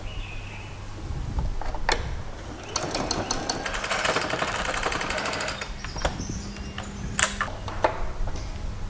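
A sewing machine stitches a pair of shorts, with bursts of rapid mechanical whirring that start and stop between quieter pauses, heard close in a quiet room and mixed with a few faint knocks.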